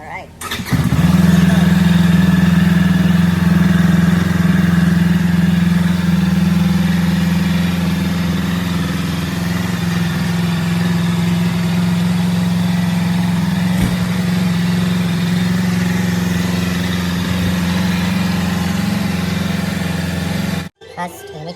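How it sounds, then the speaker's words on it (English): A 2019 Kawasaki Versys 650 motorcycle engine starts and settles into a steady, loud idle as it warms up, a constant low droning hum that runs alone for about twenty seconds before cutting off. "So I'm going to start my motorcycle first for warm up my engine for"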